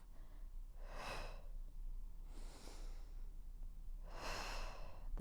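Three slow, audible breaths taken during a Pilates thigh-toning leg workout, each a breathy rush of air spaced about one and a half seconds apart, close and clear over a low steady hum.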